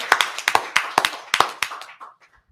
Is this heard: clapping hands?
yes